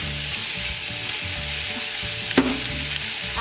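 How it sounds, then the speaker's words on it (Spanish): Onion and celery fry in olive oil with a steady, close sizzle throughout for a fish and shrimp broth, with a brief stir or clink of a utensil near the end. "vamos a pasar a freír la cebolla y el apio en aceite de oliva"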